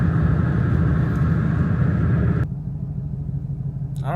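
A Ford Mustang's engine rumbles steadily from inside the car while driving, a loud low drone that drops to a quieter, softer hum partway through, followed by a brief clatter at the end.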